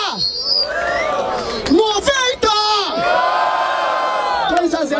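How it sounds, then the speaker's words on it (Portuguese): A rap battle crowd at an outdoor freestyle event in Barueri, São Paulo cheers, whoops and shouts loudly and continuously, with voices yelling over one another throughout. "Barulho para as rimas do Dizera!"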